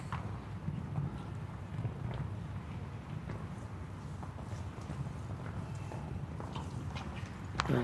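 A nine-year-old stallion canters in an outdoor show jumping arena, its hoofbeats a faint, distant rhythmic thudding under steady crowd and arena ambience.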